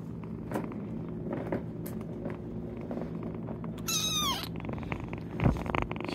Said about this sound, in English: That's Starling in here purring.